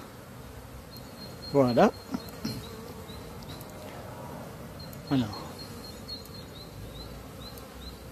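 Honeybees buzz in a steady, dense drone at a hive entrance as they return carrying pollen loads, with a few louder passes close by and someone speaking briefly in French over it.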